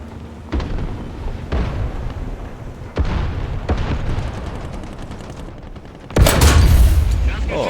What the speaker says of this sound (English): look at that blind shot straight into the top of the T-34 there